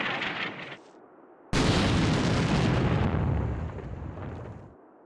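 A large explosion in a Syria-set military shooter game, heard as a sudden heavy boom with a long rumbling roar that fades out over several seconds, preceded by quieter battlefield noise.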